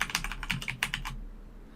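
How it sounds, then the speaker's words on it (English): Fingers tap out a quick burst of about ten keystrokes on a computer keyboard, crisp close clicks in an uneven rhythm that stop just past a second in, followed by one last tap. "Just type in your Microsoft account."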